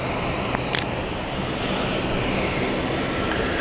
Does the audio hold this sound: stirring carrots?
no